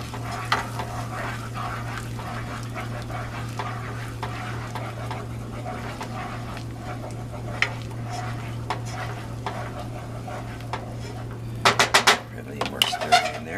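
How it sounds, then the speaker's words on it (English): A spoon stirs a reducing lemon sauce in a pan over a steady low hum, soft scraping and faint sizzle throughout, ending in a brief flurry of metallic clinks. "More stirring in there."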